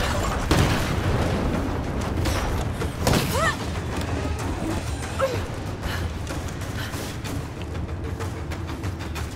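A catapult shot and explosion in the video game Rise of the Tomb Raider: deep booms and thuds, one near the start and a louder one a few seconds later, over a continuous rumbling battle din.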